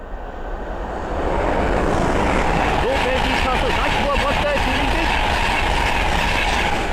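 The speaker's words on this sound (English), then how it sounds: "the first train to pass by is an LLER 225 set going from London King's Cross to Leeds" An LNER 225 set from London King's Cross to Leeds rushing past on the East Coast Main Line at Sandy, a loud building roar that swells and holds steady, with a voice talking over it.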